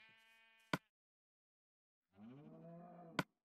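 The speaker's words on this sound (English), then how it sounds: "Cow's looking kind of good right now." A cow in the Minecraft video game gives two separate moos with a silent gap between them, each ending in a sharp click-like hit, fairly quiet and without voices.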